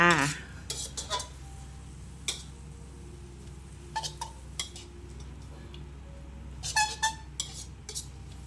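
Glass noodles and cabbage stir-fried in a pan with dark soy sauce: scattered metallic scrapes and clinks of a spatula against the pan, irregular and close, over a faint steady background hiss.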